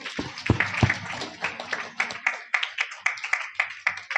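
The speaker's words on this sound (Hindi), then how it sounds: "राघव राठौर के लिए जोरदार तालियां" Uneven clapping from a school audience at a seminar, welcoming a young student about to recite a poem; a couple of loud close claps near the start, then lighter scattered claps that settle into a loose rhythm.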